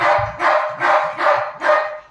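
A dog barks five times at close range in an even, repeating rhythm, each bark loud and full with brief pauses between.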